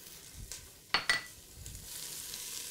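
Onions, thyme and garlic sweat in a little oil in a preheated pan, with a soft steady sizzle and a couple of sharp spatula clinks against the pan partway through.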